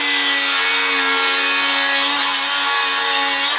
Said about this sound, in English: We'll cut it open without destroying it,